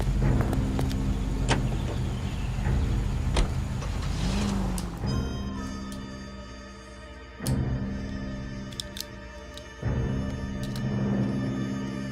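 A car drives in the video game LA Noire, its engine humming steadily up close with a few mechanical whirs and clicks along the way, and no voices.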